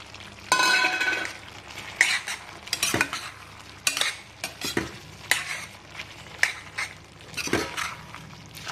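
Dried prawns go into a frying pan and are stirred through a curry, giving irregular scraping and clinking of a utensil against the pan over a soft steady sizzle, close up, with no voices.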